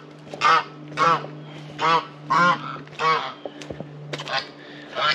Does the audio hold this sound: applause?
no